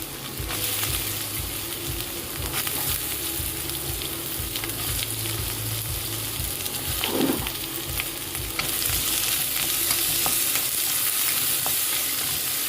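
Sliced red carrots are sautéed in oil after mustard seeds have spluttered, producing a continuous close sizzle with soft stirring scrapes and a low repeating hum underneath, with no talking.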